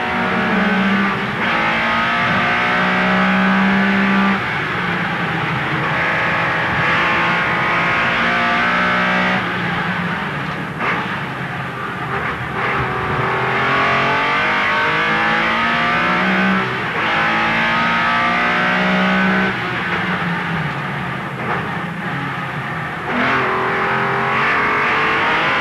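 Porsche sports sedan racing engine recorded onboard at the 1984 Amaroo circuit race, roaring loud and close throughout with repeated rising and falling revs through gear changes, no talk over it.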